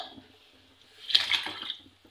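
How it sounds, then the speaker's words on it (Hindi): Water poured from a cup into a cooking pot while making Lahori hareesa, a brief splashing gush that swells for about half a second and then trails off into quieter trickling, close by with no talking. "हम इसमें डालेंगे पानी 1 कप भर के।"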